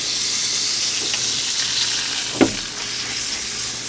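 A baloney sandwich fries in butter in a pan, giving a steady, loud, close sizzle throughout, with one brief clunk partway through.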